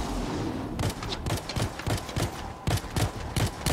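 Rapid bursts of gunfire hammer away at a robot's hands in the Anthem video game, a dense volley of sharp, close shots repeating in quick rhythm over a steady background rumble.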